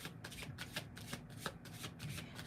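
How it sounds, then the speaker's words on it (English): Tarot cards being shuffled and cut by hand, a quick run of crisp riffling snaps and soft slaps close to the microphone, steady and uninterrupted. "I'm feeling led to share this with you while I'm shuffling and cutting and all of that"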